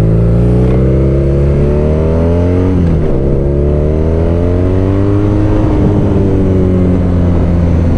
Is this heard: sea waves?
no